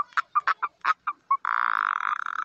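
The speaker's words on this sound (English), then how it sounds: "The toad." A toad croaks in a quick series of about eight short, clipped chirps, then breaks into a steady buzzing trill. The calls are close and clear against silence.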